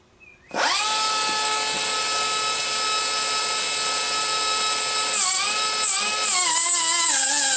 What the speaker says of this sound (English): We're going to go ahead and cut that slot across our piece.